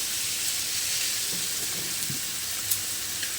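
Chicken frying in a pan of hot oil, a steady close sizzle and hiss with occasional faint pops and the soft scrape of stirring, no voices.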